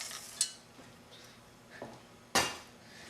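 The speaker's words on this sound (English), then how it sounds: "Now I just stir and let it melt." A utensil stirs walnuts and chocolate chips in a pot, a few sparse, faint clinks and scrapes with one sharper metallic knock near the end.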